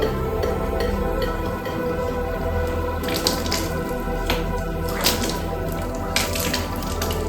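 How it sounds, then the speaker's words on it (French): Water drawn from an aquarium tank through a small hand pump gushes and splashes steadily and fairly loud, with brief gurgling surges throughout and no talking. "la petite pompe, vous appuyez et ça fait remonter l'eau"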